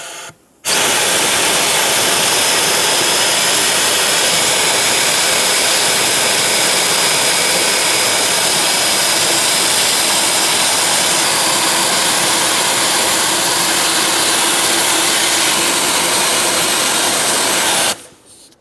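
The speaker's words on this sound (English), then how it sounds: "I'm going to use a vacuum and vacuum up any debris that's sitting in this valley" Shop vacuum cleaning debris out of the engine valley of a 2014-2018 Chevrolet Silverado 1500 5.3L V8 during an intake gasket replacement, a loud steady broadband whoosh running alone for about seventeen seconds, starting and stopping abruptly.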